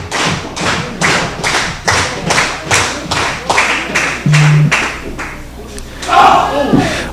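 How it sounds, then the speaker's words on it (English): A wrestling crowd at a heavyweight championship tournament pounds out loud rhythmic stomps or claps in a steady chant-like beat, roughly two per second, before a louder swell of cheering near the end. "listen to this crowd get behind Sammy Miami."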